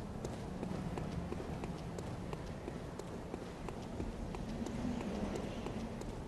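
Horse hooves clip-clop in the video game Bloodborne, a steady, fairly loud run of dense hoof impacts over continuous background game noise for the whole stretch.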